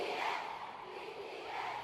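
A concert crowd at a BTS show screams continuously in a dense, roaring wash of voices, loud and steady throughout with no clear breaks.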